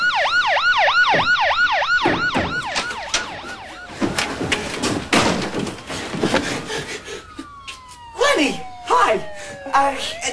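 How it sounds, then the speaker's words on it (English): Cartoon sirens wail in a rising-and-falling ambulance-style pattern, loud at first, then fade into the distance under animated character voices and sound effects. "those sirens wouldn't have anything to do with you, would they?"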